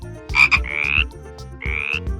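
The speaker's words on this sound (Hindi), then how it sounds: "फ्रॉग को हिंदी में मेंढक कहते हैं। ये पानी में कूदता है और टर्र टर्र करता है।" A frog croaks close and loud, alone, in three raspy calls: a short double croak followed by two longer drawn-out croaks over a low pulsing background.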